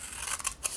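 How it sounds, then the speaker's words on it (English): Fringe scissors snip through designer paper in a quick run of close, crisp cuts, with no talking. "This is our fringe scissors."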